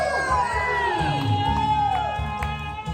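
An audience at a live show cheers, whoops and screams after a song, a dense crowd roar layered with high shouts that stays loud and steady throughout.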